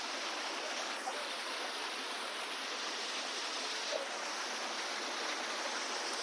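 Water rushing steadily down a waterfall stream, a dense, even roar close by with no breaks and no voices.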